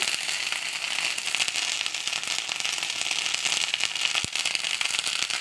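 Spices crackle and hiss in hot oil in a pan for a Bengali koi fish curry. A dense, even sizzle runs throughout, broken by one sharp knock near the end.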